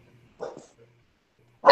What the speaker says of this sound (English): Was that a dog in the background?